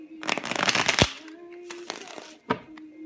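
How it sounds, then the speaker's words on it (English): A tarot deck is shuffled by hand in quick riffling bursts, crisp papery flutters and snaps interrupted by brief pauses, with a faint hum underneath. "So now let me shuffle it 3 times for you."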